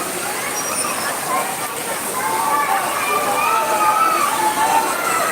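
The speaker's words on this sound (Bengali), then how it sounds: "ফাতেমা সহ আমাদের বাসার আশেপাশে সবাই এই বৃষ্টিতে অন্ধকার এই জন্য একটু কম দেখা যাচ্ছে" Heavy rain pours at midnight in Dhaka in a steady, dense hiss that swells slightly louder toward the end, with a faint voice somewhere beneath it.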